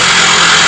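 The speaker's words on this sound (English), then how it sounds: "As you hear the electric jackhammer" Electric jackhammer pounding at an archaeological excavation site, a loud, continuous, dense mechanical roar up close, steady for the whole moment with no voices over it.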